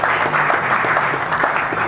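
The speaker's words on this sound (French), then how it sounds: "Acclamons s'il vous plaît, acclamons" Audience applause at a graduation and degree-conferral ceremony, a steady dense clapping wash lasting the whole short moment, fairly loud and close, with faint voices mixed underneath.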